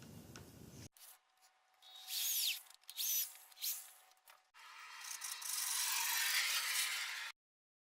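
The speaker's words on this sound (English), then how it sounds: "before that I will make a hole right in here with my 10mm drill bit" A drill whirs and grinds through material in bursts with a 10mm drill bit, a high rasping whine that stops and restarts, then a longer steady drilling run before cutting off.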